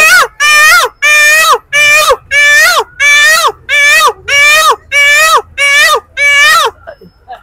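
A mimicry artist voices a peacock's call, giving about ten loud, wailing, high-pitched cries in a steady, evenly spaced series up close before falling silent.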